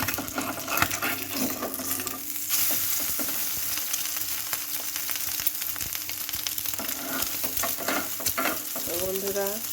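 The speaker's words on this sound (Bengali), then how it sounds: "এই তো ডিম পোচটা করে নিব।" An egg frying in a pan for a home breakfast, giving a loud, continuous, crackling sizzle with dense bubbling spits throughout, no talking.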